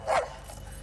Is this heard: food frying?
no